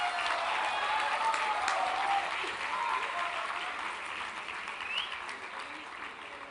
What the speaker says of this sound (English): A big applause for her, guys.